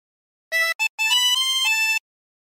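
Tremolo harmonica with 24 holes playing the second phrase of Bella Ciao, a short bright melody of a few quick notes followed by longer held ones, alone and close.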